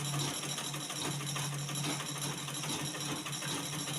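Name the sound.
sewing machine sewing slowly with tight tension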